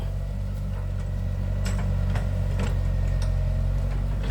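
A CAT 313B CR excavator engine idles steadily and close by, a continuous low rumble with faint light ticking and clicks over it, and no talk.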